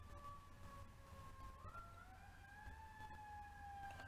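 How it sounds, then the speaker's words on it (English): A distant wailing siren rises and falls faintly in pitch behind low background rumble, with no talking. "Now we're getting interrupted by a siren."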